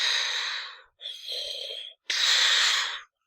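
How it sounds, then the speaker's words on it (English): Darth Vader's mechanical respirator breathing from Star Wars: three hissing, filtered breaths in a slow inhale-exhale rhythm, close and isolated with short silences between. "that iconic Darth Vader breathing"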